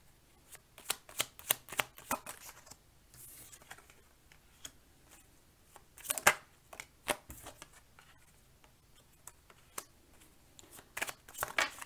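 A deck of cards is cut into three piles, giving a string of sharp, close card snaps and soft slaps on a table, irregular and fairly quiet, with no talk.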